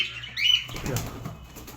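A bird takes off and flaps its wings in flight inside an aviary or bird enclosure. The flapping is a short, close burst of wingbeats, with a brief chirp just before it.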